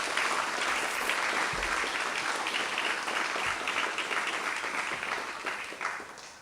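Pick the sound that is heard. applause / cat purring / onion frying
applause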